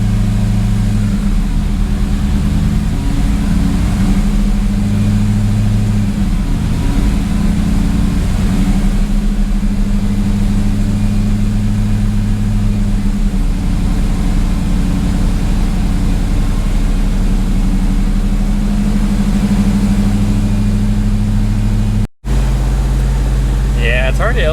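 A Dodge Dakota pickup with a swapped Hellcat engine runs up through its gears, giving off a steady, low, droning hum with shifting tones that holds throughout and is cut by a brief break near the end.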